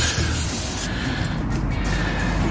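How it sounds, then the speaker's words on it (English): A steady, broad aerosol spray hiss runs continuously with no pauses, close and fairly loud, flushing a rusty outer tie rod end on a 1996-2007 Dodge Caravan, with no one speaking. "I'm going to just give this a good spray and flush that all out"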